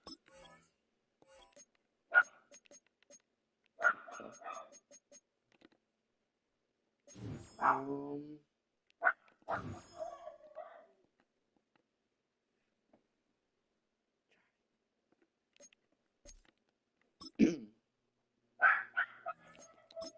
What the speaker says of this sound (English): can you go handle that dog, please? Can you go take care of that dog? My guy is barking like crazy.